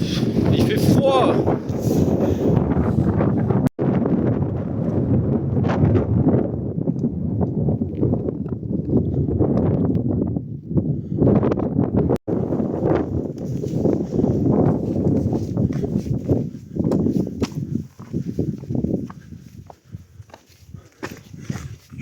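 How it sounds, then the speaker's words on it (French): Strong wind buffets the microphone on a cold mountain hike, a loud continuous rumbling roar that fades somewhat toward the end, with a person talking through it. "Oh, le vent! Il y a trop de vent!"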